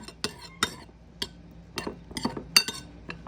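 A utensil mixing parmesan and egg white in a bowl, giving a series of irregular, close clinks and scrapes against the bowl with quiet gaps between them.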